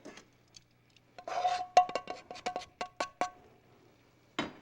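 Food being poured and stirred in a frying pan: a run of scraping, clinking utensil strikes against the pan, close and irregular, with quiet pauses between.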